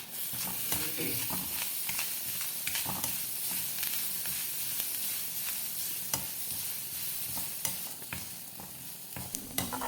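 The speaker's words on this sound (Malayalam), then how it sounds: "അതിലേക്ക് അരമുറി തേങ്ങയും 3 ചെറിയ ഉള്ളിയും കുറച്ച് കറിവേപ്പില ഇട്ട് നന്നായി വറുത്തെടുക്കാം" Coconut, shallots and curry leaves roast in hot oil for a Kerala-style ginger curry, giving a steady loud sizzle throughout with frequent scraping stirs of a spatula, and no talking.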